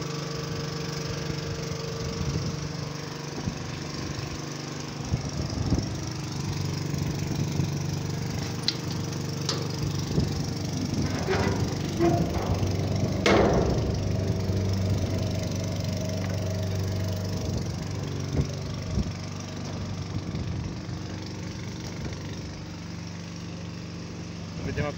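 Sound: motor pump engine running while unloading

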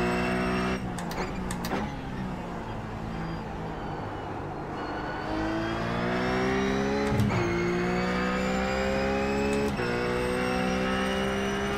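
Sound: RUF race car engine at Imola, from video game iRacing

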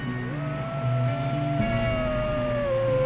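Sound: wolves howling in video game Red Dead Redemption 2

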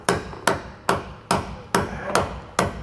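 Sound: hammer tapping socket to drive in suspension part

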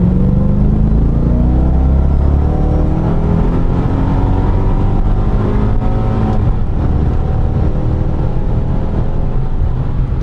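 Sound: Mercedes-Benz E 55 AMG engine revving

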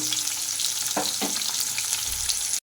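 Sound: lightly frying fish in oil

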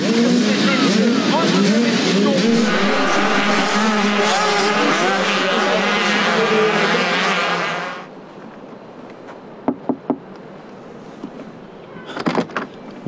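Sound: 85cc motorbikes riding a sand race circuit

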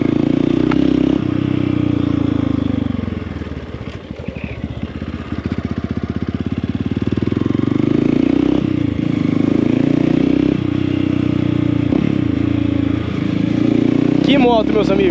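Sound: motorcycle riding and engine running

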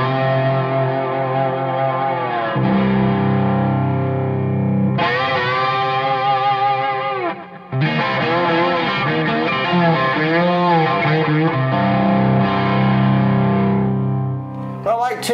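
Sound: electric guitar through Pro Analog boost into GS124 amp

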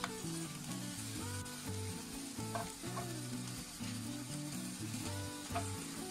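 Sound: fruit breakfast pancake pan-frying after being flipped, brushed with oil

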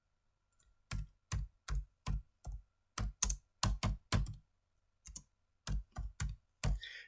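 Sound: typing on a computer keyboard

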